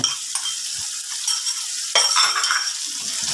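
Pounded garlic frying in hot oil in a pan, a bright steady sizzle close up, stirred with occasional utensil scrapes and a louder burst of hissing partway through.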